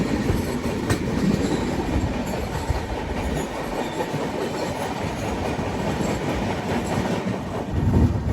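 The Kashi Express from Gorakhpur rolls along the rails in a steady, loud rumble with constant clatter of wheels and carriage noise throughout, and no voices.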